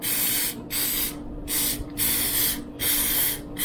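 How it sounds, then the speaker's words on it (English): Four short bursts of cooking oil spray hiss close by onto yellow squash, each lasting about half a second with brief pauses between them. "we're going to spray the other side of them and get them all covered in it."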